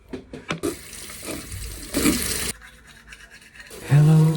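A tap runs into a sink in bursts of broadband rushing water, close and fairly loud, with a person speaking briefly near the start and a voice humming at the end.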